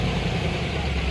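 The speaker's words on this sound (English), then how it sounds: "but just listen to that motor." American V8 sports car engine idling at a Cars & Coffee meet in Darien, Connecticut, a steady low burbling rumble close by with no speech.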